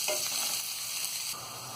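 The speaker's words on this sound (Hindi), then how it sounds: "प्याज को हम गोल्डन ब्राउन होने तक फ्राई करेंगे।" Onions fry in a pan for mutton keema, giving a continuous, close sizzle with a brief stirring scrape near the start and a slight drop in level toward the end.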